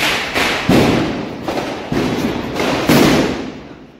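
Diwali firecrackers going off outdoors, several sharp booming thuds at uneven intervals, each blast followed by a ringing, crackling decay, loud and fairly close.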